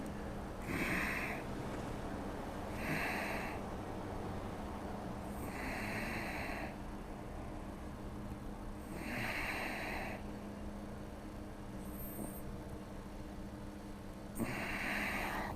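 Breathing from a yoga class during an arm-up back bend, five deep, regular breaths about three seconds apart, close and clear over a steady low background hum.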